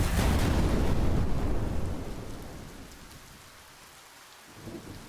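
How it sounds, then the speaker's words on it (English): Rain and rolling thunder from the Relentless Frontier video game, a loud rumbling downpour at first that eases into steadier, quieter rainfall, with a slight swell near the end. "Was it raining before? I don't think it was raining before."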